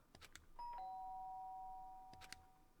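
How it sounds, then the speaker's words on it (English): A two-tone doorbell chime in the game Danganronpa 1 rings once, clear and close, its second note lingering and fading, with a few soft clicks before and after. "Sharp sound of the doorbell pierced my sleepy haze and pulled me back to the real world."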